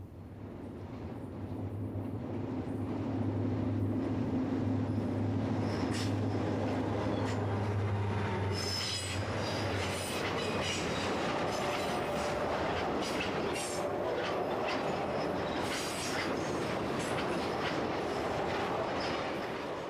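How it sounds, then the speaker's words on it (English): A mixed freight train of auto racks and general merchandise rolls over the Potomac River near Harpers Ferry, West Virginia, with a steady, loud rumble of wheels and cars that holds throughout, the low engine drone fading partway through. "it heads this mixed train of auto racks and general merchandise over the Potomac River near the historic"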